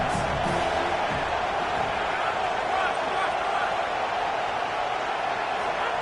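A stadium crowd roars at a USC vs LSU college football game, a loud, sustained wall of noise with whoops and cheers rising from it and no break.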